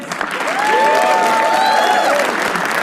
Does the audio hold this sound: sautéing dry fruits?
no